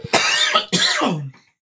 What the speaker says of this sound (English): why is it when I read you gotta cough so loud?